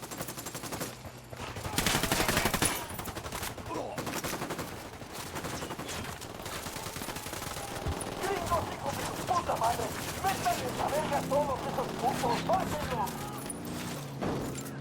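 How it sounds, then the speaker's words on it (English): Gunfire during a firefight against a drug cartel in the stealth shooter Ghost Recon: dense, sustained volleys and scattered shots mixed with in-game effects and shouting voices, growing busier toward the end. "I'm opening fire on these shitheads."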